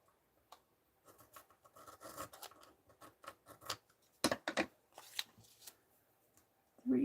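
Scissors snipping through craft material for slow stitching, a series of close, crisp cuts and rustles, some faint and some sharper, with a voice briefly at the end.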